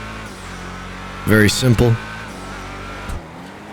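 A Declasse Sabre muscle car in GTA 5 rumbles with a steady exhaust drone, then a brief loud burst of revving and tire squeal near the middle, while someone talks briefly.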